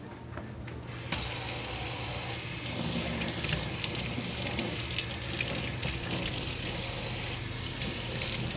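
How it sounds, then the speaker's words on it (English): Hot water runs from a kitchen tap in a steady, loud, continuous stream, close by, while a two-layer ice cream dessert topped with whipped topping and chocolate is being prepared. "I'm just going to run some hot water on this."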